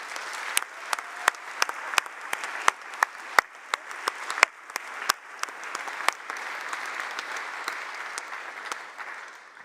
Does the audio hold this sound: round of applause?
yes